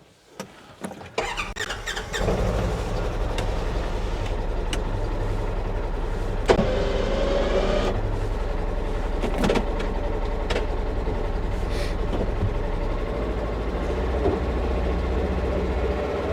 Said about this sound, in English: we are going to pull out of the garage, head over near the snowbank